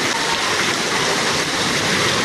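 Floodwater pours like a waterfall in Moscow, a loud, steady, close rushing roar that continues unbroken and dense throughout.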